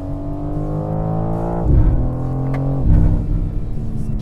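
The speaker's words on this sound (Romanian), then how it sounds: "Schimbă foarte rapid și poți să te joci așa cu sunetul motorului." A BMW M4 Competition turbo engine revs up and drops sharply twice as paddle shifts cut in, giving deep rising and falling engine tones with two quick shift surges, close and loud.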